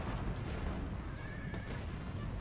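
Cavalry horses in a video game battle whinny amid a dense, roaring wash of battle noise, with a single thin neigh rising briefly through the steady din.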